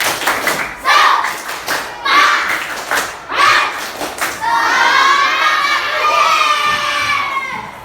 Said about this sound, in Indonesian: Jadi tepuk semangat.